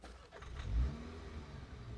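A 2017 MINI Cooper S Countryman engine starts with a brief starter crank that swells into a short idle rev and then settles into a low, steady hum, heard close and fairly quiet.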